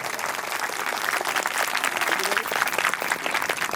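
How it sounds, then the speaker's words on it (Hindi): Loud, dense applause fills a hall at a Bhagwat Katha religious gathering, the audience clapping continuously and vigorously throughout with a busy, unbroken texture. "जोरदार ताली।"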